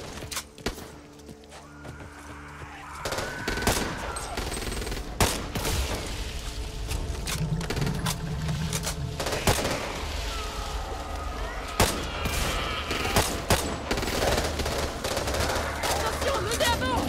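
Pistol and other gunfire crackles throughout a fight in the Back 4 Blood video game, with sharp shots and dense volleys over a busy background.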